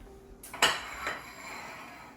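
Ceramic dishes and a ladle clinking as hot and sour soup is served in a kitchen, two or three close, sharp clinks followed by fading ring, no talk.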